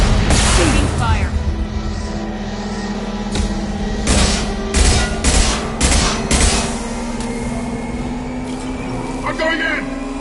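Rapid bursts of gunfire and explosive fusillades in the video game Mass Effect Legendary Edition, loud and close, with shouting voices over the combat.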